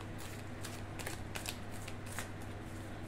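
Tarot cards being shuffled by hand, giving soft papery riffles and flicks in several quick bursts over a low steady hum, close and fairly quiet, with no voices.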